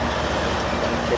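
A train of all-autorack cars runs by on railroad tracks, a steady, loud rumble with faint clatter and a brief higher squeal near the end.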